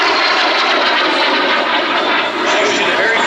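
Aero L-39C Albatros jet trainer passing overhead, a loud, steady broadband jet roar that holds near full strength for the whole stretch with only a slight dip late on.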